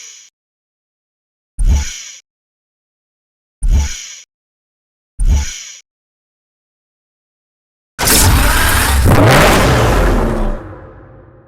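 Lamborghini Murcielago engine in the racing game Need for Speed Hot Pursuit Remastered, three short sharp revs separated by silence, then a longer loud roaring rev that fades out.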